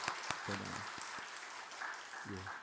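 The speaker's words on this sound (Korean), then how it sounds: "우리 다 같이 한번 박수로 우리 축복해 주시겠습니다." Church congregation clapping during a Korean men's fellowship Sunday worship service, fairly faint and steady, with a few sharp close claps and brief voices speaking over it.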